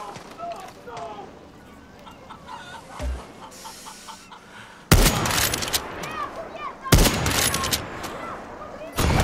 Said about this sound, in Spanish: Vamos a usar nuestro francotirador